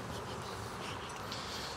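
Honeybees swarming over a comb during a hive inspection of a Langstroth box, a steady dense buzzing hum held close to the frames throughout, with no talk.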